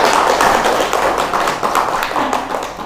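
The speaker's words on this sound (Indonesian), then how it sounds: "kita beri tepuk tangan untuk mereka" A crowd applauding steadily for a few seconds, dense overlapping claps filling the room.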